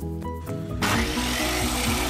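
Table saw with a 70-inch table and a Stacked Dado Pro 8-inch blade set spins up, then bites into wood with a loud, sustained buzzing cut that stays close and steady.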